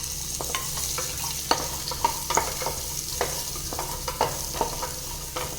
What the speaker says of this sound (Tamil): ஒரு 2 நிமிஷம் அதை நெய்யில் வதக்கலாம்.